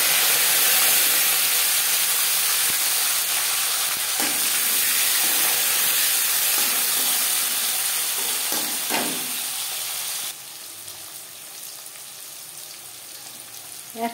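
Carrots hit hot oil already spiced with dry red chillies, a bay leaf and five-spice seeds, giving a loud, steady sizzle and hiss that dies down abruptly to a quieter simmer with faint stirring scrapes.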